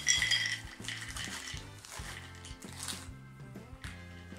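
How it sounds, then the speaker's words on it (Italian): Almonds tossed into a lightly oiled pot, a dense scatter of small hard clicks and rattles against metal that shuffle and settle over a few seconds, close but fairly quiet. "Buttiamo dentro le mandorle."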